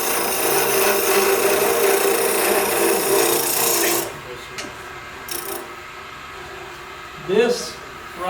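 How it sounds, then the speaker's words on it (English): A chatter tool cuts a spinning wooden top on a lathe, making a steady loud rasping buzz for about four seconds. It then stops, leaving the motor's hum and a few short scrapes and knocks. "I know you want to see the chatter tool"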